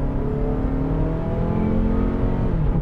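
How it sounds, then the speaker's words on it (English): A 2024 Mazda with a naturally aspirated engine and 6-speed automatic pulls away steadily, its engine drone rising smoothly and continuously with no voices. "The 6-speed automatic shifts smooth. It also takes off smooth, no matter which engine it's paired up to."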